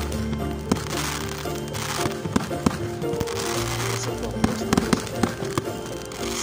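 New Year's fireworks crack and pop repeatedly over a dense, continuous roar of celebration noise, with sharp bursts scattered irregularly throughout.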